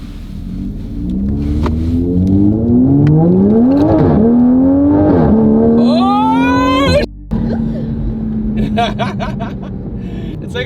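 A tuned MK5 Toyota Supra tuned to about 430 horsepower accelerates hard with traction control off, its engine note climbing steadily through the gears with sharp shifts and a brief cut, loud and close from inside the cabin.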